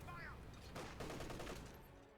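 Gunfire rattles in the World War II real-time strategy game Company of Heroes 2: a quick, faint burst of rapid shots in a dense cluster, fading after about two seconds.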